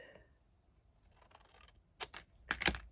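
A few crisp scissor snips through paper, close up, coming in a quick cluster after a quiet stretch.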